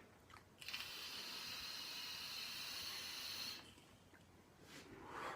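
A long, steady hiss of vapour from an Eleaf iJust Start Plus beginner e-cigarette kit runs for about three seconds at close range, ending abruptly and followed by faint breathy exhales.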